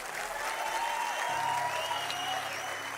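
An audience at a motivational talk claps steadily, a broad dense wash of applause that holds at an even level from start to finish, with a faint low hum underneath.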